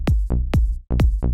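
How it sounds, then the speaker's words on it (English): Synth saw-wave bass plays a simple repeating groove on one root note, punchy plucked notes in a steady pulse with bright buzzy harmonics, loud and alone. "the bass is just a simple groove on the root note of the track to begin"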